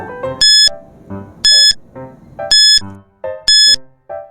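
A quiz countdown timer rings out in four regular bursts about a second apart, bright electronic alarm tones alternating with softer ticking chimes between them, loud and close with no voices.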